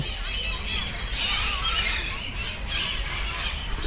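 Birds squawk and squeal in shrill bursts at Alipur Zoological Garden, repeated over a busy background of crowd murmur and voices.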